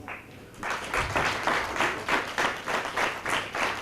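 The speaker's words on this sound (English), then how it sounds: "So definitely a round of applause for the teachers" Applause for the teachers at a school sports day and graduation event, steady rhythmic clapping from a crowd that starts after a brief pause and carries on throughout.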